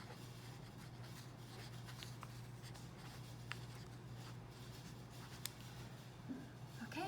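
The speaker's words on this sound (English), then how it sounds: "I'm gonna write sunflowers." Pen or pencil writing a word by hand, faint soft scratching strokes with a few light taps over a low steady hum.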